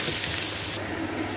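Onions fry in oil in a pan for a lentil soup, giving a steady, loud, close broadband sizzle that eases slightly partway through. No one speaks.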